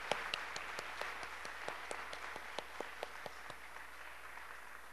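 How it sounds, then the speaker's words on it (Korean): A church congregation applauds during a Sunday sermon: faint, loose clapping with sharp individual claps scattered across a steady, quiet room background, never building to a dense roar. "우리 그분들에게 한번 힘찬 박수를 한번 보내고 말씀드리겠습니다"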